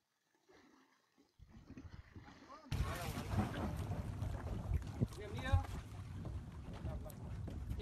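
A long-tail boat at sea off Koh Lanta in Thailand rumbles steadily with a loud engine drone and wind buffeting the microphone, starting quiet then jumping up in volume, while people talk over it.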